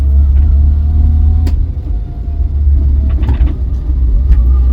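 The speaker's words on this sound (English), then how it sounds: "When I put my foot down, it's fine until it gets halfway through the acceleration, then it just seems to back off." Vauxhall Viva engine in second gear, a loud low rumble that builds and then eases off as the car backs off under acceleration, with faint clicks over it.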